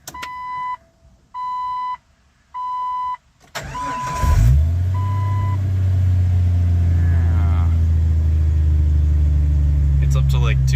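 A 315,000-mile five-speed Jeep XJ gives a few chime beeps, then the engine cranks and catches and settles into a loud, steady idle close by, with a faint voice nearby.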